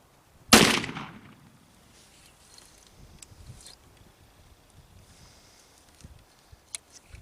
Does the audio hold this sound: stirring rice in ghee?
no